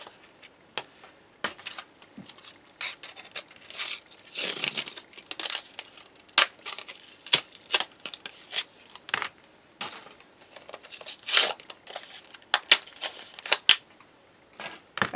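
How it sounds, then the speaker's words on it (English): Plastic and cardboard packaging crinkling and tearing as nail polish and makeup are unwrapped, a string of sharp, close rustles and crackles in irregular bursts with quiet gaps between. "the first thing we're going to do is open everything. And take it out of the packaging"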